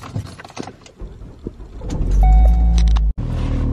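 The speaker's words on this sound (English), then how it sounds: "Should my car be sounding like this?" A car heard while driving, with a steady low rumble building and a rising mechanical whine partway through, a brief cutout, then continued road noise; no talk.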